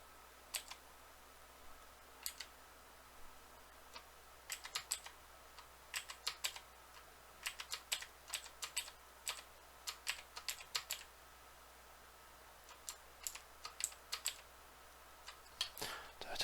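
Computer keyboard keys pressed in scattered bursts of quick taps and single clicks, close and fairly quiet against a soft background hum, with no talking.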